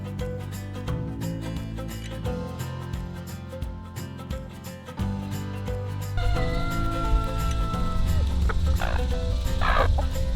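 Backyard chickens cluck and murmur while pecking at dehydrated mealworms, a busy overlapping chorus of close calls that grows louder and denser partway through, without any talk.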